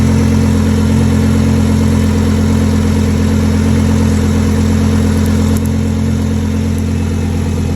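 A twin turbo Audi R8 engine running with a fault, a loud steady mechanical drone with a low hum and a fast rhythmic ticking pulse that holds throughout, nearby and with no one talking.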